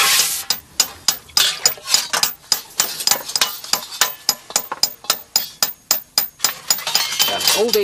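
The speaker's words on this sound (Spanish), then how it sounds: "golpeando y modelando el hierro a altas temperaturas" Hot iron being hammered into pieces of a medieval armour helmet, a steady run of sharp, ringing metallic strikes in close succession, loud and near.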